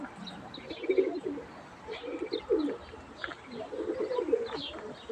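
Pigeons coo in repeated low, throaty bursts, close by, with a few soft chirps and light rustling between calls.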